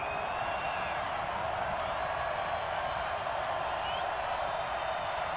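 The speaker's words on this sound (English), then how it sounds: "the crowd getting into it as we come up on a big third down" A football stadium crowd at a Panthers at Dolphins game roars steadily as a big third down approaches, a broad, continuous wash of distant cheering with faint whoops.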